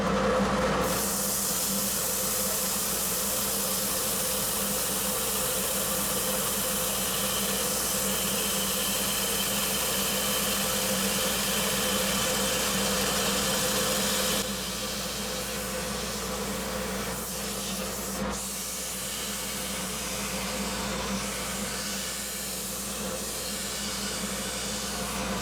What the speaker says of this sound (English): we're just going to alternate between a piece of sandpaper and a disc